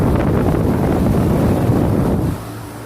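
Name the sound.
2008 NuTone 2.5-ton central air conditioner running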